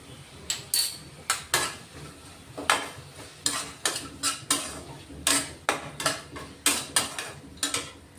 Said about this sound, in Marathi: तेही आता या मसाल्यामध्ये परतून देणार आहे